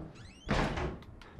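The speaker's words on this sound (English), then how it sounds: "Can I shut this door" A door shuts in the horror video game Outlast, a quiet thud and rattle after a brief creak, followed by a couple of faint knocks against a low background.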